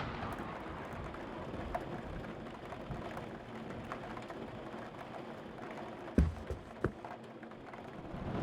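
Steady heavy rain pours down in a video game, a dense continuous wash with a couple of sharp knocks near the end and no voices.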